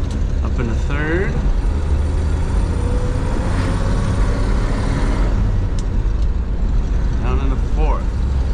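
A 1950 Chevrolet 3600 pickup engine runs steadily while driving and the gearbox is shifted, a constant loud low drone with brief pitch sweeps as revs change, with someone talking over it.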